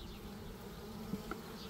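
Honeybees buzz steadily and softly at an open hive while frames are shifted to add a second story, a close, continuous drone with no voices.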